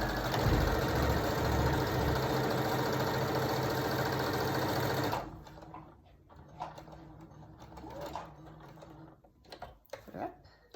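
A sewing machine runs a final seam all the way around a homemade face mask, whirring steadily and close for about five seconds, then stops, leaving quieter handling noises and light clicks.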